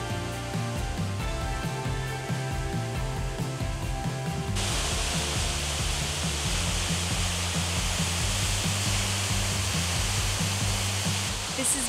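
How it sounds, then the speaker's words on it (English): Rain Vortex indoor waterfall in the Jewel at Singapore Changi Airport, a steady broadband roar of falling water that starts abruptly partway through, following a stretch of humming indoor airport ambience. "we really want to see that iconic indoor waterfall, the Rain Vortex, which is in the jewel"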